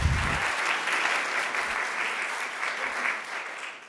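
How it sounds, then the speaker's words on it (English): A museum audience applauds a historian's lecture on lost Chicago department stores with a steady, full round of clapping from many hands that swells briefly and then slowly tapers off, with a short low thump near the start. "give her a round of applause, absolutely"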